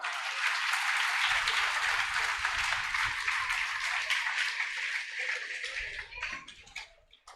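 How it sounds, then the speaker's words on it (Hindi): A crowd at a church gathering claps loudly and continuously, a dense roar of many hands that holds steady for several seconds before thinning and fading toward the end. "एक बार जोरदार तालियां"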